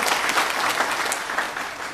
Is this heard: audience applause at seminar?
yes